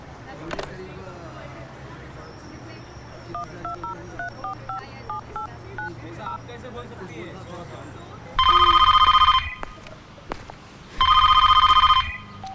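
A telephone number is punched in as a quick series of beeping keypad tones in a quiet room scene from a Hindi film, followed by two loud bursts of ringback tone with a pause between them.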